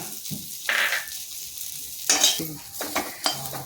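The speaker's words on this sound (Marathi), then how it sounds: "आता कांदा आणि लसूण भाजून घेऊया" Onion and garlic frying in a pan for a Marathi mas vadi filling, with a quiet sizzle broken by several distinct spatula stirs and scrapes against the pan.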